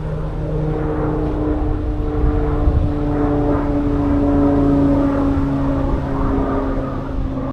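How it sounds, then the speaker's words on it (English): Two small airplanes flying low overhead near a hidden fake town in southern Utah, a loud, steady droning propeller roar that holds near and constant before fading slightly at the end. "First, the two planes buzzed me again,"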